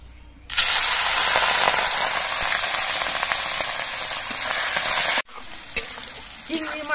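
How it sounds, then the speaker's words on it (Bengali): Prawns hit very hot mustard oil in a wok with a sudden loud burst of sizzling that roars steadily for several seconds, then cuts off abruptly, leaving quieter pan noise and a few clinks. "এবার আমি চিংড়ি মাছগুলো ভেজে নেব।"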